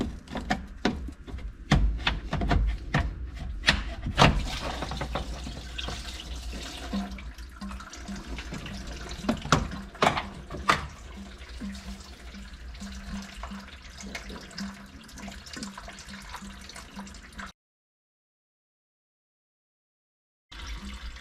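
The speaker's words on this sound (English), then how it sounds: "Pretty sure this is going to make a mess. Oh yeah, there's still a lot of fluid in there." Coolant pours out of a removed radiator hose on a 1996 Mitsubishi Minicab, an irregular splashing and trickling of liquid that starts strong, thins to a steady dribble, then cuts to silence before a brief return.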